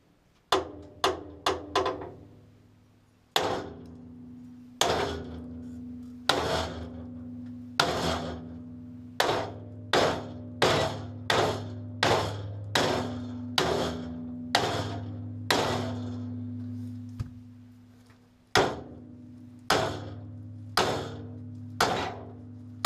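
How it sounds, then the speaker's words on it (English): Heavy hammer blows strike the metal bucket of a 1968 Case 580 CK backhoe again and again, each loud clang ringing out with a low resonant hum, in an uneven but steady rhythm. "I think a big hammer will probably do the trick there."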